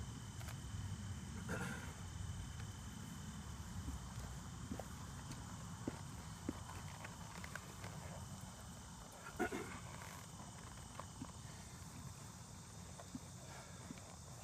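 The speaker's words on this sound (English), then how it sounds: "Sometimes they do, and the horse moves off." A horse walks off as its rider mounts, hooves clopping irregularly in soft, scattered steps under a steady outdoor hum, with faint rustles and no voices.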